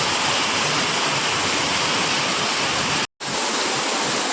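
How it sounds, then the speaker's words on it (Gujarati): Heavy rain pours steadily in Dholka, a dense, loud, unbroken rushing hiss with a brief cut near the end, with no voices. "અત્યારે હાલ ધોળકામાં જોરદાર વરસાદ ચાલી રહ્યો છે"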